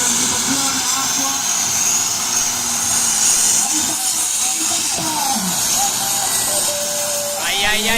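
A 12-cylinder tractor-pulling engine fed by four turbos roars at a power-pulling event, a dense, loud, hissing wall of sound with a rising whine near the end, while a commentator talks over it.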